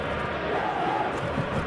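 A football stadium crowd at a Champions League semifinal between Villarreal and Liverpool gives a steady, broad wash of applause and cheering. It stays loud and continuous throughout with no clear individual voices.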